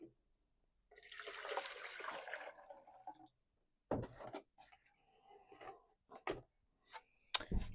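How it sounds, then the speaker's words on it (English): Water poured from a can into the soil of a potted begonia indoors: a soft splashing pour of about two seconds, then a few scattered drips and light knocks as the pot is handled. "Going to give this a water right now."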